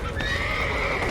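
Horses in The Witcher 3 let out a loud, drawn-out whinny with hoof clops underneath, close and continuous across the short moment.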